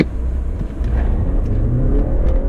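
A BMW 530e plug-in hybrid under full kickdown acceleration from a standing start: a steady, close drivetrain rumble with a faint whine rising in pitch as it pulls, and no talking.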